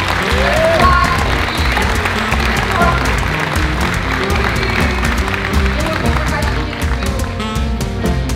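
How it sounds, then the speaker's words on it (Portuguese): Audience applause fills a live podcast show, dense and steady throughout, with voices and music mixed in over the clapping. "uma salva de palmas para mim"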